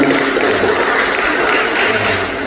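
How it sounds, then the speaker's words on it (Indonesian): An audience applauds a government minister at a ceremony in Jayapura: a continuous, fairly loud wash of clapping from many hands, heard on its own. "tepuk tangan untuk Bapak Menteri yang luar biasa"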